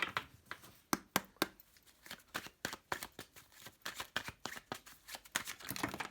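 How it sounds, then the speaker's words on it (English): Tarot cards being shuffled by hand, a close run of rapid riffling bursts and soft slaps repeating over several seconds, with no talk. "One more shuffle."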